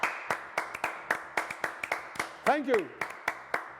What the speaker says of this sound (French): applaudissements pour Lisaël